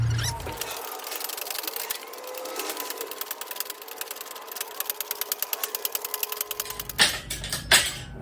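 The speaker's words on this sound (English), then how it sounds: "Now we're just ready to start pumping it up." A hydraulic hoist jack used during an engine swap on a 2008 Chevy Malibu 3.5L is pumped up, producing a fast, regular series of close mechanical clicks and clacks that ends in a couple of louder knocks.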